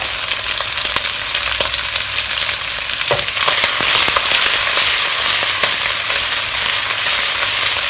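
Prawns and chopped garlic fry in hot oil in a pan for a shrimp stir-fry with ginger and spring onion, a loud, steady sizzle with crackling pops and one sharp clatter midway, heard close with no talking.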